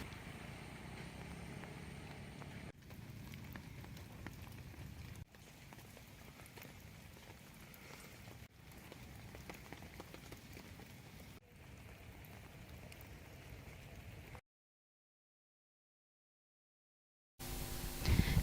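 Heavy monsoon rain pours steadily as the Vannathipuzha river floods near Karivellur, a dense continuous hiss with brief cuts, then a gap of silence before a louder burst at the end.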